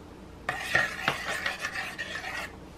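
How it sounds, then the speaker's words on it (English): Orange barbecue sauce with apple cider vinegar and ground ginger being stirred in a pot, a spoon scraping and clinking against the metal in a steady run of strokes, close and fairly loud. "And I'm stirring this all together."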